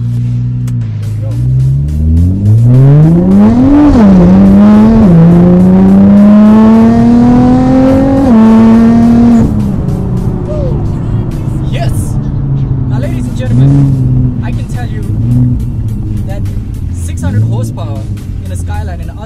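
A 600HP straight-piped Nissan GTR accelerates hard off a red light, its engine note climbing through several loud rising pulls with gear shifts, then settling into a lower drone; people talk over it from inside the car.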